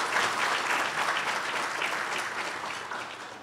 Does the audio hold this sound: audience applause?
yes